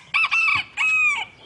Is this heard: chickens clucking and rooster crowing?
yes